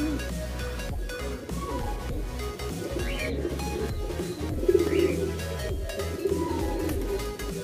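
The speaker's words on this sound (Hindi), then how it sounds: "ये देखना किस तरह खा रहे हैं कबूतर" Pigeons coo softly in low, repeated bursts while they eat bread, with brief higher chirps and rustling over a steady low background hum.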